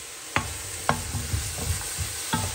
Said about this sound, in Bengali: ওখানে শুটকিটা আগে একটু ভেজে নিব